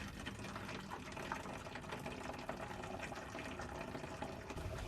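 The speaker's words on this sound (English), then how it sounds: "Take some boiling water and pour it into a plastic bottle using a funnel." Boiling water pours through a funnel into a plastic bottle, a steady close gurgling trickle with splashing that runs continuously and quietly for several seconds.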